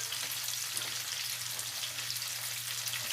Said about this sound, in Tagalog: kumukulo ng masyado yung ating tubig